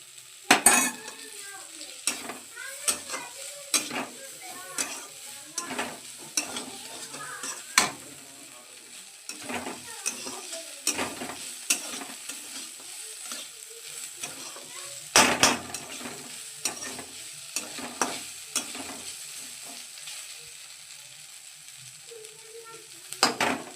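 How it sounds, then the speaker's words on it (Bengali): Vegetables sizzle and fry in a pan while a utensil repeatedly scrapes and clinks against the metal in an irregular stirring rhythm. "প্রায় আমার এই সবজিটা ভাজা হয়ে গেল।"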